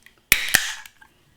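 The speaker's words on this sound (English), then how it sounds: "Have a little listen to the pop on this beer." A sharp metallic pop and hiss as a can of pastry stout opens, followed by a quieter second click and a brief fizzing tail, close and loud.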